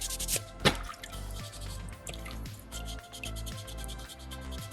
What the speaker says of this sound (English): Sandpaper number 2.